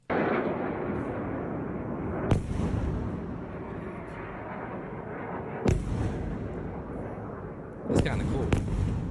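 Iron Dome interceptions of Hamas missiles sound as a constant heavy rumble with three sharp booming blasts spaced several seconds apart, a voice speaking over them.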